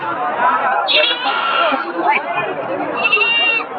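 Goats bleat repeatedly at an open-air livestock market in Puthiyamputhur, the cries rising over a steady murmur of crowd chatter and voices close by.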